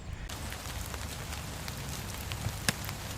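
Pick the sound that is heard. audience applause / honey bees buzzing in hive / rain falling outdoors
rain falling outdoors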